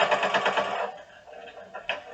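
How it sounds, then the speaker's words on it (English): A sewing machine stitching binding onto a scrappy quilt gives a brief, rapid rattling run of stitches up close, then slows and stops into quieter handling noise. "I'm anchoring it down and I'm lining it up edge to edge, and I'm going to sew."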